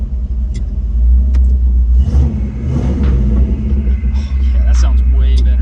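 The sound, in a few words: Honda Ridgeline with Spintech exhaust revving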